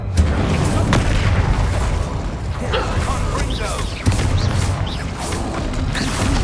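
Bombarda and Confringo spell explosions in the Hogwarts Legacy video game: a dense, loud run of booming blasts and crackling bursts, with a sharp hit near the four-second mark, under game voices.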